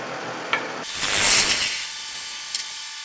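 A wood lathe spins a chip-and-dip nut bowl while a tool cuts away a high spot in the centre, a brief rising scraping rasp swelling then easing over the motor hum, with small clicks before and after.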